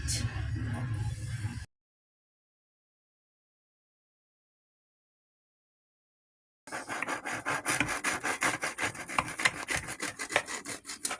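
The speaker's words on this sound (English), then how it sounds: "Hear the crisp sound of that bread." Crisp crunching and rasping of a knife cutting through a baked garlic cheese bread bowl filled with spaghetti, steady and close, after a brief burst of noise and a few seconds of silence.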